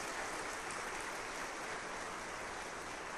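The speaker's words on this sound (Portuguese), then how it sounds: "Você pode aplaudir o Senhor em nome de Jesus." A church congregation applauds during a Sunday service, a steady, dense wash of many hands clapping together that fills the room evenly for the whole stretch without a voice.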